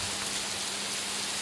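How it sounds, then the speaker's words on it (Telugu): Light rain drizzles in Rayalaseema, Andhra Pradesh, as a soft, even hiss of drops that runs continuously through the brief moment with no other sounds standing out. "ఇప్పుడు కూడా చినుకులు స్టార్ట్ అయినాయి మళ్ళీ రెండో రౌండ్కేమో"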